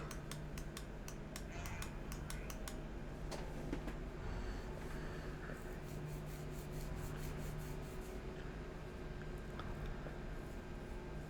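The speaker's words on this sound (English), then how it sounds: "Hand drill!" A hand drill in the MASS Builder video game grinds with a continuous dense rasping whir, broken early by sharp rapid ticks and clicks, steady and close with a low sustained hum underneath.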